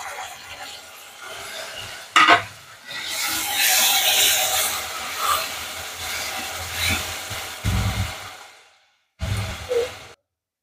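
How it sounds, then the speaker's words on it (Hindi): Chopped tomatoes with ginger-garlic paste are stirred and sautéed in a pan, giving close rasping scrapes and a soft sizzle with brief pauses and louder clattering bursts. "इसको अच्छी तरीके से मिक्स करके 1 मिनट के लिए भून लेंगे"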